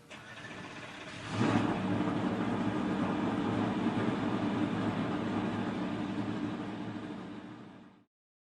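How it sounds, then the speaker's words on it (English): NASCAR race car engines fire up together at Charlotte Motor Speedway, a sudden loud roar after a quiet second that holds as a dense, sustained rumble of many engines before cutting off. "The engines have been fired,"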